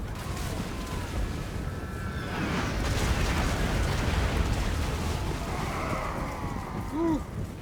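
Mortar shells burst in a Warhammer video game battle against heavily armoured dwarf Slayers, producing a continuous roar of rumbling, overlapping explosions at close range that swells midway and carries no talk.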